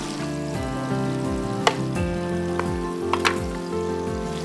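Onion and tomato sizzle loudly in a hot pan for Turkish lamb kebab, a continuous close frying hiss with a few sharp clinks of a utensil against the pan.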